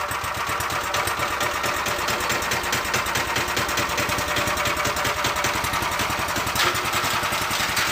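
A slightly flooded tractor engine running, a steady close chugging idle with even pulsing firing and no talk.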